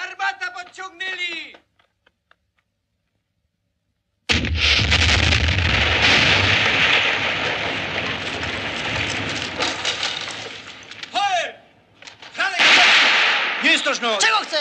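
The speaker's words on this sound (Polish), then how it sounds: "Erwin, armata podciągnęli!" Heavy cannon fire thunders in a 1969 battle scene, a long roaring barrage of blasts and rumbling, with shouting voices before and between the volleys.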